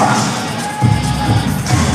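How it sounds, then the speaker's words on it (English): A live crowd at a wrestling show rises for a standing ovation, with sustained cheering and scattered shouts mixed with rhythmic clapping and shuffling, all close and steady. "Taya receiving a standing ovation from the crowd"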